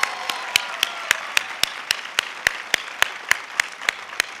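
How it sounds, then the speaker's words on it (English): A graduation audience claps, with a steady, evenly spaced train of crisp nearby hand claps standing out over a softer background of applause. "Let's give them a big round of applause."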